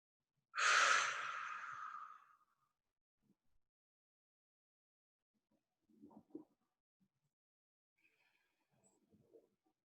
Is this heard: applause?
no